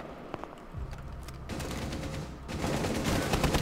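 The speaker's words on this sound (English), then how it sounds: "he's shooting at me" Gunfire in the tactical shooter game Rainbow Six Siege arrives first as scattered shots, then as sustained, increasingly loud automatic bursts that fill the final second, with no voices heard.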